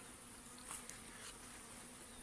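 Honey bees buzzing around a hive during honey harvesting, a faint, steady insect drone with a slightly louder pass of a nearby bee; no talking.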